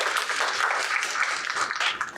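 A symposium audience applauds steadily, a dense wash of many hands clapping at once, sustained without a break.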